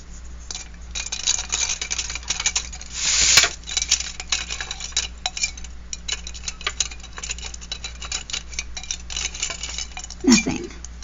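Metal embellishments stirred in a rusting solution give off light, irregular clinks and taps, with a brief louder scrape near the middle and a muffled knock near the end, close by with no talking.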